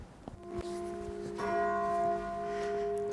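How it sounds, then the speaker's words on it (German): A church bell rings in a German town, with resonant tolling strikes and long humming overtones that carry at moderate distance, alone without talk. "Kirchenglocke. Kannst du sie hören?"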